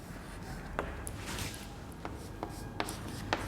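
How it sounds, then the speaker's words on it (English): Marker or chalk strokes writing a sentence on a board in a grammar lesson: faint, scratchy, short strokes repeating irregularly over a steady room hum, with no talk. "I will write one more statement."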